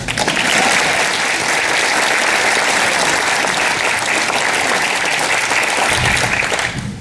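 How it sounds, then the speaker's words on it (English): A town hall audience applauds a city councilman in Hampton, a loud, even wash of clapping held for several seconds before it cuts off. "Don't be afraid to give him some applause."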